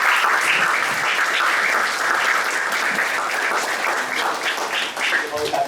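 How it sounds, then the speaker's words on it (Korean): A church audience gives sustained, steady applause for visiting missionaries at a mission gathering for Mbeya, filling the whole stretch with dense clapping at even loudness. "저희 다시 한번 두 분 선교사님 네 분께 한번 뜨겁게 박수 한번 더"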